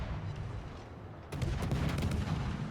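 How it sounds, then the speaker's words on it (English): Naval gunfire in a warship video game involving the French destroyer Marceau: a heavy volley rumbles in partway through and continues as a dense, booming barrage, moderately loud, with no talking. "Well, them shots were highly accurate."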